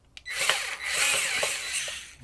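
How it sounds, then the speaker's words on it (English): A power tool unscrewing the battery cover on a toy Cybertruck: a short, close, high whirring burst that starts abruptly and runs for about two seconds, with no talk. "I'm gonna use my power tool."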